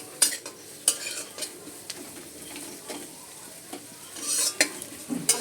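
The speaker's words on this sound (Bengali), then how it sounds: "তেলের মধ্যে পেঁয়াজ ও কাঁচা লঙ্কা কুচি দিয়ে দিয়েছি।" Chopped onion, green chilli and crushed ginger and garlic frying in hot oil give off a soft sizzle, broken by repeated sharp scrapes and taps of a spoon stirring against the pan.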